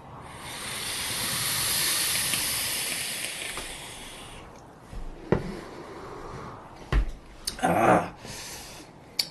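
An e-cigarette vaping device gives a long, steady hiss for several seconds, then drops away into scattered short puffs, clicks and bursts of noise, fairly close and with no talking.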